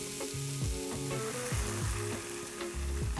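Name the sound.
wine added to tomatoes, shallot and garlic frying in olive oil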